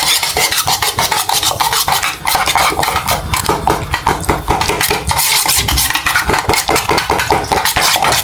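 Batter is stirred briskly in a bowl, giving loud, close, rapid rhythmic scraping and clinking of a utensil against the sides, continuous and without any voices.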